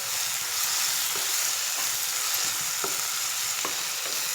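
A spoonful of ginger garlic paste fries in a pan for a catering-style egg gravy curry. It gives a loud, continuous close-up sizzle, broken by faint scrapes from stirring, with no voices.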